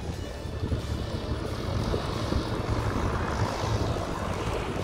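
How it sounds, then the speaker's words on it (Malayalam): A propeller aircraft taxiing in after landing at Duxford airfield, a steady broad engine rumble and wash heard at moderate distance, fairly constant in level and partly masked by wind noise. "മുമ്പേ ലാൻഡ് ചെയ്ത ഫ്ലൈറ്റ് അതുകൊണ്ടാണ് വരുന്നത്."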